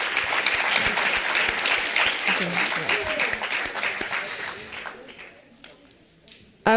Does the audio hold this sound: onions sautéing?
no